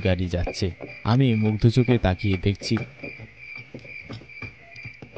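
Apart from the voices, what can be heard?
crickets chirping in a cartoon village night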